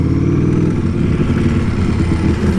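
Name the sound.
Ducati Streetfighter V4 motorcycle engine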